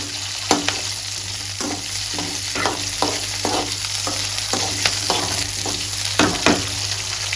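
Small onions frying in oil for a herbal vatha kuzhambu, a steady close sizzle broken by repeated stirring scrapes and soft clatters at an uneven rhythm, with no voices.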